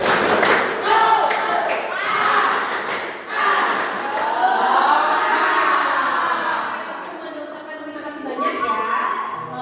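A class of eighth-grade schoolchildren claps in rhythmic patterns and shouts together in a chanted cheer, loud and energetic throughout.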